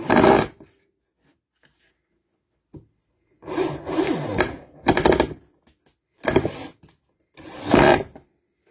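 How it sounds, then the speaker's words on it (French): Screws being driven into the back of a wooden workshop board, five separate bursts of grinding, buzzing driver noise with silent pauses between them, close and loud. "visser mes vis derrière qui tiennent ma planche"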